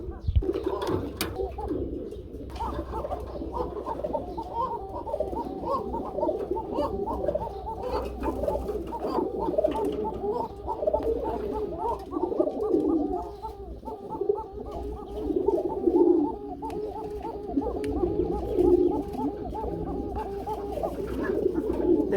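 Pigeons at a pigeon farm coo continuously in overlapping, rolling calls, with a low hum of farm background throughout and no talk.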